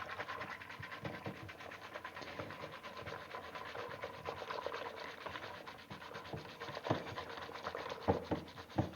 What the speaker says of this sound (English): And then I'm going to whisk these together to help break down